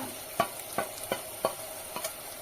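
A spoon stirs Agri masala, Kashmiri chilli and garam masala in a hot pan for Agri Koli chicken, scraping about six times in an even rhythm over a soft, steady sizzle, close and quiet, with no talking.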